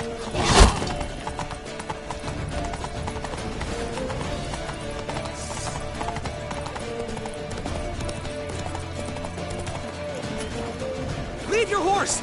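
Horses gallop with rapid, loud clip-clop hoofbeats and a sharp neigh near the start, the pounding running steadily throughout under raised voices.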